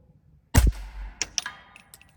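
A single rifle shot from a Radian Model 1 fired at a target 200 yards away: one sharp, loud crack with a brief rumbling tail, followed by faint metallic clinks, otherwise quiet.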